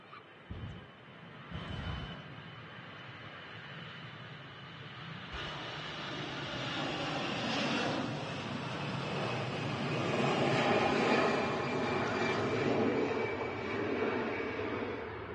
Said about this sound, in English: EasyJet Europe taking off there, back to Milan.